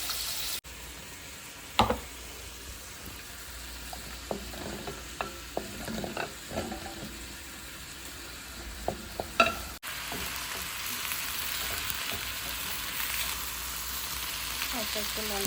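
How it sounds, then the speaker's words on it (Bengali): Prawns frying in a pan for a brinjal curry, a low steady sizzle broken by scattered utensil scrapes and knocks against the pan, with a sharper hiss returning in the last few seconds. "চিংড়িগুলো আমি ফ্রাই করতে দিয়ে দিয়েছি, একটু লাল লাল করবো"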